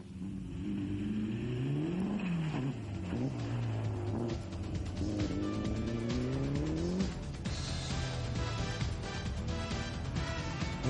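Rally car from the 1998 Barbórka Warsaw Rally, driven hard on slippery slush: the engine howls through rising and falling revs with repeated gear changes, loud and close, with a rumbling, scrabbling undertone and no voices.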